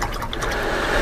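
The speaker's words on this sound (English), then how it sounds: "Wash the brush." A paintbrush being rinsed in water for a dry paint appliqué project, giving a steady, close swishing and sloshing of liquid that lasts about a second with no voices.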